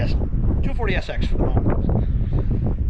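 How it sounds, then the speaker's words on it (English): Wind gusts buffet a microphone mounted on a car's spoiler, a loud, constant rumbling roar that runs beneath someone speaking throughout. "It's windy"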